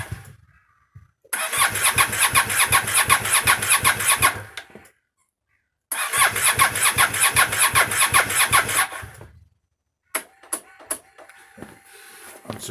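An Aprilia Shiver motorcycle with a dead battery in cold weather cranks twice in long bursts, the starter churning rhythmically without catching, separated by a short silence and followed by a few faint clicks and clatters.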